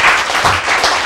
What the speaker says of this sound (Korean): 크, 박수.